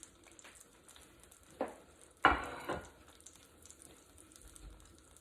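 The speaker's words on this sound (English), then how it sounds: "take the salmon and I'm just going to put it skin side down in the skillet" Salmon is laid skin side down into a buttered skillet over medium-high heat, giving a sudden sharp sizzle that fades into a softer, steady crackle against a quiet background.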